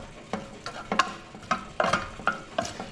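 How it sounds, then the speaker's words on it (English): Farfalle pasta with lobster and spinach being stirred in a pan over low heat, giving a run of rhythmic scraping strokes about every half second over a soft sizzle, close and fairly loud with no talking. "we're going to add the pasta to the pan. Get it all in there, all right? And we're going to stir it up."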